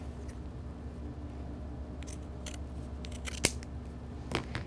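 Scissors snipping through fabric while cutting off the bottom of a country apron, a few crisp, close cuts standing out against a steady low room hum, with no talking.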